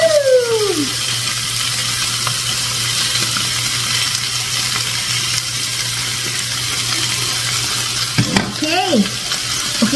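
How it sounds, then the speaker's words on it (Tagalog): Water spinach stir-fried with sardines in a pan gives a steady, loud sizzle throughout, with a brief scrape of a utensil near the end and no talking. "So ngayon, ilagay ko na itong pinaka-gulay."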